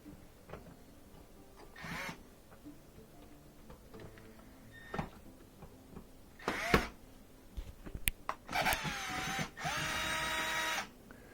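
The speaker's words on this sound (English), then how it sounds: "we're going to remove a couple of screws here, here, here," Phillips head screws being removed from a Miele dishwasher: scattered light clicks and knocks, then a louder, sustained whirring burst near the end, close by, with no talking.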